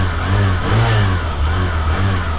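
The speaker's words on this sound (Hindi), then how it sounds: "और 1 मिनट, ऑन हो गई है बाइक। पहले इसका एक जो साउंड ही सुन लेते हैं।" A 125cc family motorcycle, freshly kick-started, runs nearby with a steady throbbing idle that rises into a couple of smooth revs before settling, loud and alone.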